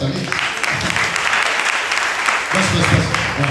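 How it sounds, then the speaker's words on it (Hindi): Congregation clapping at a Hindi-language Christian sermon, a loud continuous burst of many hands that thickens and grows more energetic partway through, with faint voices mixed underneath. "जी जी बजा सकते हैं आप ताली।"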